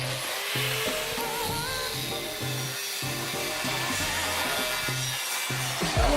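A length of steel tube being cut for the front end of an Rx7 drift car, heard as a steady, loud, continuous grinding or sawing whine with a rhythmic low pulsing through it, with no talk.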